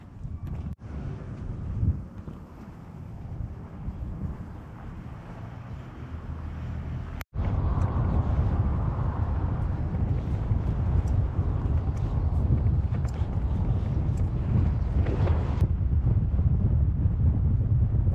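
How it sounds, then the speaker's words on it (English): Strong desert wind in Jordan buffets the microphone of a cyclist on a remote road, a loud continuous rumbling roar that surges even stronger partway through and stays heavy to the end. "Very difficult cycling in this wind."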